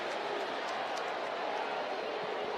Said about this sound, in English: The crowd's still on its feet here at right field. But as you can hear in the background, not pleased with Wilson at the moment